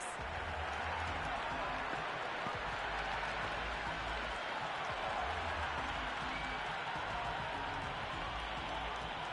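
Crowd applause and cheering from a video game cricket match rise as a steady, distant roar after a six is hit, running continuously under faint background sound.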